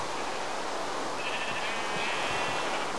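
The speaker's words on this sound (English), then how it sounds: "Ooh, a herd. Hello, sheep." Sheep bleating from a herd in the video game Minecraft, a few soft bleats rising over a steady hiss of background noise, fairly faint and with no talk.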